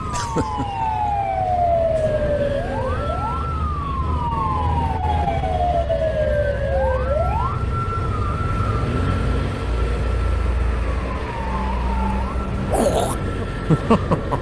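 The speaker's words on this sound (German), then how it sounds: "Mit der Sirene im Schlepptau hört es sich ein bisschen an, als wären wir hier im Einsatz von Manhattan" A loud wailing siren of a motorway patrol in Pakistan sweeps up and down repeatedly over steady traffic rumble, close and continuous throughout.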